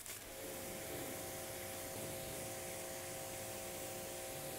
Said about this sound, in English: Let's rinse off after our first wash.